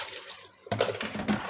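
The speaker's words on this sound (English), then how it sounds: "you rinse the bottle in water" Water splashing and swirling as a baby bottle is rinsed, close up, with a quieter start giving way to a louder, continuous wash of running liquid.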